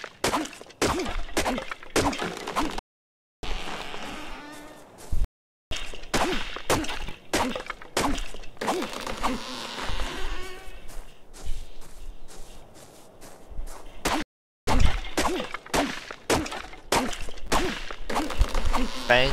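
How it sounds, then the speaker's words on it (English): In the video game Ark, a hatchet bangs on trees for wood, making repeated sharp thunks and whacks in uneven bursts with a few short silent gaps, loud and close throughout. "Banging on the trees with this hatchet."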